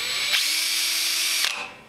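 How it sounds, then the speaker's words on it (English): Handheld power drill with an eighth-inch bit run in reverse while fitting an electric brewing boil coil, a loud steady whine lasting over a second that starts and stops with brief clicks. "we've got an eighth inch drill bit, and I'm going to pop that. I'm going to run it backwards for a second"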